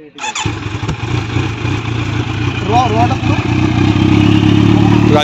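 A Kawasaki Z900 motorcycle starting up and settling into a loud, close, deep idle, its exhaust rumbling steadily with a brief rise in revs partway through.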